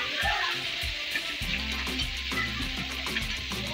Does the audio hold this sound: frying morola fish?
yes